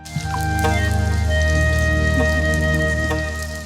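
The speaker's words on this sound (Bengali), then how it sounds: "আমরা এখন সয়াবিন তেল দিয়ে দিচ্ছি" Soybean oil poured into a hot pan for a tempering while cooking a jackfruit dish, a loud, dense sizzle with spattering crackle lasting a few seconds over a steady low hum, no talk.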